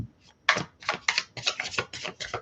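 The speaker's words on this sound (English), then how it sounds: "I have to be really careful how I shuffle these cards as well" A rapid series of crisp riffling bursts, like a deck of cards being shuffled, repeating several times close by with no talking.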